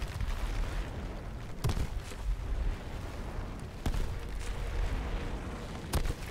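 Explosions from artillery fire in the video game H1Z1: three spaced, sharp booms with rumbling tails, moderately loud, rising over a continuous low din.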